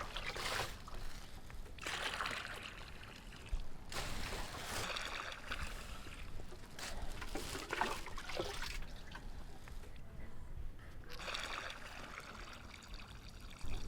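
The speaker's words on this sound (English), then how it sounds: "She pours in the filtered salt water." Filtered salt water pouring into a pan over a strong, steady wood fire for making sand salt in the Philippines, a continuous splashing, gurgling flow with bursts that rise and fall, close and fairly loud, no talk.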